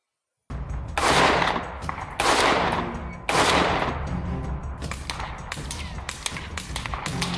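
A working replica Halo 2 M7S SMG fired outdoors in short bursts, three loud rapid strings of shots followed by scattered single pops and taps that trail off.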